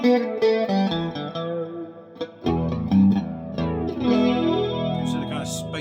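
A Japanese-made Fender Telecaster with Bigsby tremolo played through a flanger pedal, chords and single notes swirling with a sweeping, spacey jet-like shimmer, loud and close, alone without talk.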